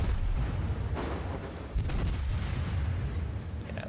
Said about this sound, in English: the rate of fire on these guns is just stupid